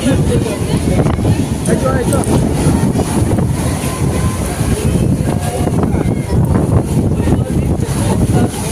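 Strong storm wind at the seashore in Digha roars and buffets the microphone as a constant, loud, close rumble through the whole stretch.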